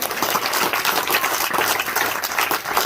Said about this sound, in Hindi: एक बार जोरदार ताली बजाकर उनको।